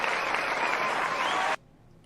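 A short burst of studio crowd applause plays at an even, fairly loud level for about a second and a half, then cuts off abruptly into near silence.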